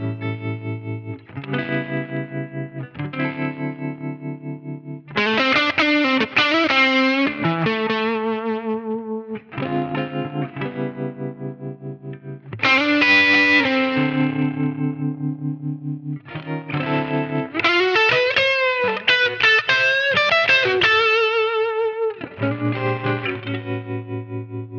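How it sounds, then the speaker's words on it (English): An electric guitar played through a small tube combo amp with valve-bias tremolo and power amp overdrive sounds sustained, distorted notes and chords that pulse gently, with the tremolo wobble returning as each note fades, alone with no talk. "you can play through the tremolo effect by digging in, with the tremolo reappearing as the note dies away"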